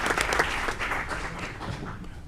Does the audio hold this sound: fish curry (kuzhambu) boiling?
no